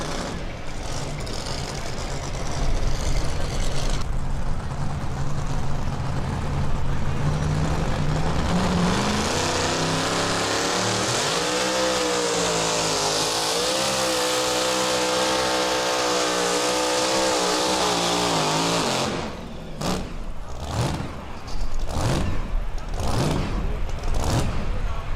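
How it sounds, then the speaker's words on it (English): A pulling truck's big aluminum Chrysler Hemi engine at a county fair truck pull lopes at idle, then roars up to full throttle with a long, loud, rising and sustained howl, dropping off before sharp repeated bursts near the end. "Now you hear the lope of the big aluminum Chrysler Hemi."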